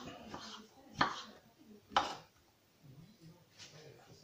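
A knife dices strawberries into small cubes on a board, two crisp, distinct chops about a second apart, then softer taps, fairly quiet and close.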